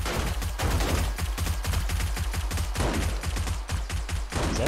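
Rapid, loud SMG fire in 7 Days to Die, a steady stream of close-range shots in quick bursts with only brief pauses, filling the whole few seconds.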